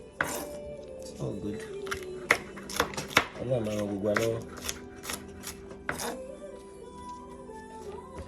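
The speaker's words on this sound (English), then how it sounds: "I'm just here to cut pepper because I want to fry eggs." A knife chopping a pepper on a board in a home kitchen, with a run of crisp sharp taps and cuts, loud and close, while a person talks over it.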